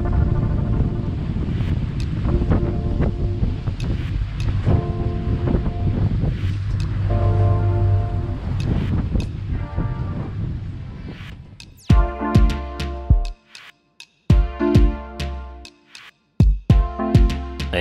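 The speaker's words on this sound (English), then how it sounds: "the wind is blowing, I say from 15 to 20 knots out of the northwest" A strong northwest wind of about 15 to 20 knots roars outdoors near water and boats, a loud constant gusting rush that breaks up into sharp buffets and knocks on the microphone.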